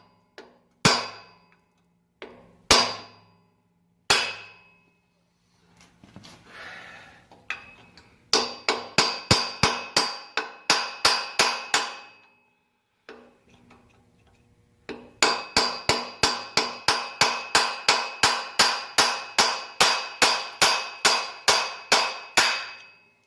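A sharpened punch is hammered against a rusty broken exhaust stud with a reheated tab, sharp metallic clangs in bursts, first a few spaced strikes and then long rapid runs of rhythmic blows.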